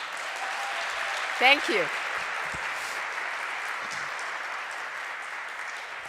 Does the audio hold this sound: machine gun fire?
no